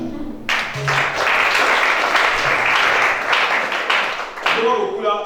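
A church congregation bursts into applause during a worship service, a dense wash of clapping that swells quickly and holds steady for several seconds before fading, with voices mixed in.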